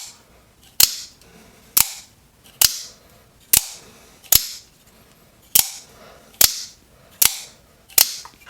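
Takcom Grunt out-the-front knife firing its blade again and again, sharp snapping mechanical clacks with a hard recoil, about ten shots at roughly even intervals, close and crisp against quiet background.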